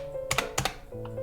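A few quick clicks of a computer keyboard as a command is typed into a Windows terminal, close and fairly quiet over a steady electronic hum.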